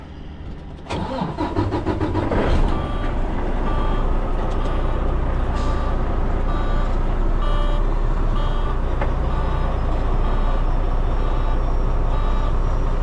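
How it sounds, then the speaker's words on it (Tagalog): A truck's engine cranks and catches, then settles into a steady, loud, rumbling idle that continues alone without any talk. "Start natin ng truck."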